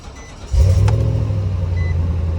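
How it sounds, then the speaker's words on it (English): A 2012 Nissan Titan SV King Cab 4x4 pickup engine turns over and settles into a deep, rumbling idle, loud and close, with a low throaty exhaust tone. "It's got a little bit of a throaty sound to it when you start it because of the exhaust."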